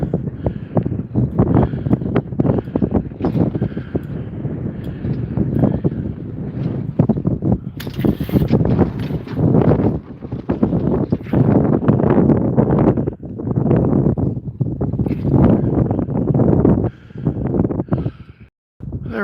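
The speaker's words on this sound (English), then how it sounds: "the wind's picked up to 16 knots" Steady gusting wind roaring across an open microphone aboard a sailboat heeled over in a 16-knot breeze, with continuous buffeting and rushing water noise throughout, loud and close with no clear pauses.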